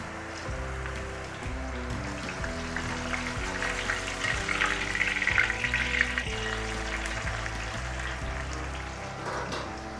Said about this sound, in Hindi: अब ऐसे कर करके पलटाते पलटाते हम सारी नूडल्स क्रिस्पी तक फ्राई करेंगे